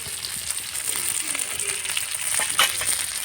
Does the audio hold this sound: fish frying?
yes